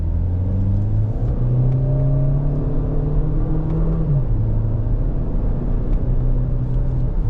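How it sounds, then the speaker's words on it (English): A 2026 Chevrolet Equinox LT AWD engine droning steadily under acceleration inside the cabin, its pitch climbing then dropping at a downshift before rising again, loud and continuous with no talk. "Does pretty well on the downshifts and back up."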